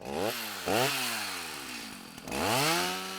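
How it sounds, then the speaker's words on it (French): A chainsaw revs and bogs in bursts as an artist carves a wooden trunk over two metres tall into a female figure at a monumental sculpture symposium, loud and close, with three sharp throttle surges and steady cutting between them. "Tronçonneuse à la main, il façonne un tronc de plus de 2 mètres pour le transformer en un corps féminin bien particulier."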